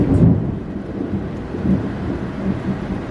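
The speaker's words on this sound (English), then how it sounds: "Oh, it is lightning and thunder." Thunder rumbles in a long, deep roll during a thunderstorm, loud at first and then fading, with steady rain hiss underneath.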